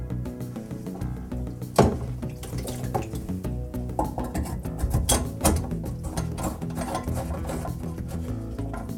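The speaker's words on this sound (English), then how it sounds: "And then you want to run water to make sure your drain is clear." Tap water runs into a sink and down a freshly augered, cleared drain, giving a steady close splashing flow with a few sharper clunks and knocks mixed in.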